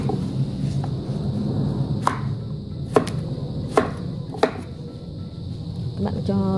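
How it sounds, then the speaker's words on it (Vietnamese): A knife slices through taro root on a cutting board, with a few distinct chopping knocks spaced irregularly, close and clear over a steady room hum while a person talks. "Bây giờ các bạn thái ra, thái thành từng miếng để chúng ta cho lên nồi để hấp"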